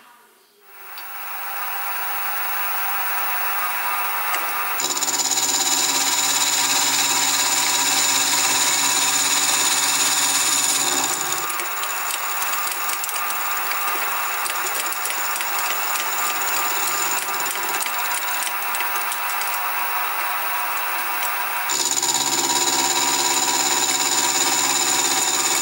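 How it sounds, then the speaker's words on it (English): A milling machine cuts a part for a Stuart 10V steam engine valve chest, a continuous loud whining drone with a steady metallic hiss that shifts in tone in several long passes, close up with no talk. "put it in the milling machine and I'll mill it to that dimension"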